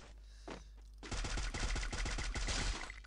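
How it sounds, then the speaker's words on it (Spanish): Gunfire in the video game Free Fire: a single early shot, then a rapid automatic burst of a dozen or so loud, closely spaced cracks running for about two seconds before stopping. "Se está disparando con alguien"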